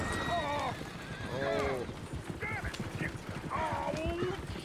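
Horses whinny repeatedly and hooves clop in the Red Dead Redemption 2 game world, with several rising and falling neighs standing out over a busy, loud mix of game noise and voices talking.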